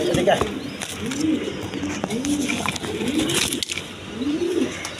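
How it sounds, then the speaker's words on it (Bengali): A pair of American fantail pigeons coos in repeated rolling phrases, close and steady, with a person talking over them throughout. "এক জোড়া আমেরিকান ফ্যান্ডাল কবুতর আছে"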